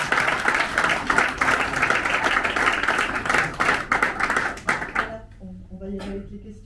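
Audience applause after a talk at a startup funding event, dense clapping for about five seconds that thins into scattered claps and stops, followed by a voice speaking.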